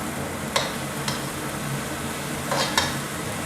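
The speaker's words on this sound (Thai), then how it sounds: "ผัดสักครู่นึงก่อนนะครับ ให้กระเฉดสลดดีก่อนนะครับ" Water mimosa is stir-fried over high heat in a pan for glass noodles. A continuous sizzle is broken by a few sharp spatula scrapes and clacks, with no voices.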